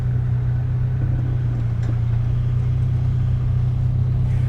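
Constant low engine rumble from a car driving into the hall at the Practical Classics Classic Car & Restoration Show, a steady close hum with little variation and no speech.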